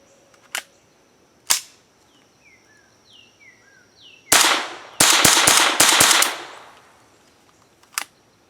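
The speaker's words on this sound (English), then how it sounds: "let's take this to the range and pop a few rounds off" An Armalite AR-7 .22 survival rifle fires at an outdoor range: a couple of separate sharp cracks, then a fast string of five or six shots and one final report, with birds chirping faintly between.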